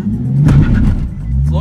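A 2015 Nissan 370Z launching from a standstill with a manual clutch, its engine rumbling and rising loudly from close inside the car while people talk over it.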